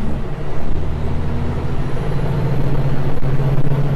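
A Kenworth T610 truck with a manual gearbox drives along, its engine a loud, steady low drone with a faint high whine above, heard close and continuous throughout.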